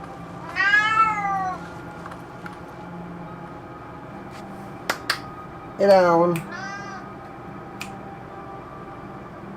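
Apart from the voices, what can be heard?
cat meowing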